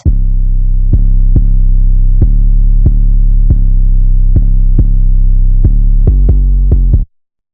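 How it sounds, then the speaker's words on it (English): Deep, booming 808 bass notes sustain heavily, with clicky attacks marking each new hit and a quick flurry of hits before an abrupt stop. "And I added this 808."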